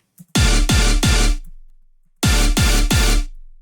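Rave stab synth chords with an added high layer of simple triads, two groups of three punchy, bright stabs separated by a short silence, each hit decaying quickly.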